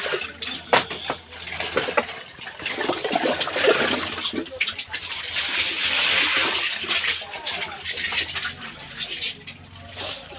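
Running tap water pours steadily into a container during dishwashing at home, a continuous splashing gush with occasional clinks of dishes, with voices faintly beneath.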